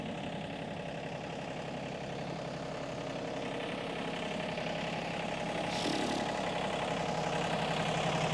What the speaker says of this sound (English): I can pull this end over with a tractor, I think.